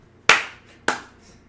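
Two sharp hand claps about half a second apart, close and crisp, each with a short decaying ring in a quiet room, no talking.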